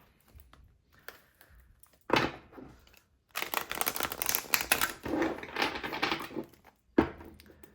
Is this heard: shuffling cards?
yes